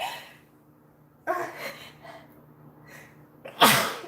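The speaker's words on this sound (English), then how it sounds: "I am going to sneeze." A single sharp sneeze bursts out near the end, preceded by a few quiet breathy intakes building up to it.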